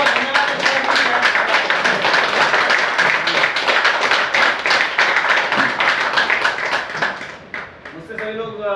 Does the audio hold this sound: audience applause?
yes